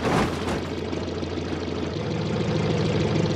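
A crashed sedan's engine keeps idling in the Automation car-building game, a steady low rumble with a rough, slightly knocking texture that holds evenly throughout, fairly loud and close with no talk.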